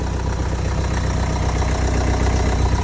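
A 2009 BMW 320d Touring diesel idles just after starting, a steady low rumble with a faint knocking clatter, loud and close throughout with no talk.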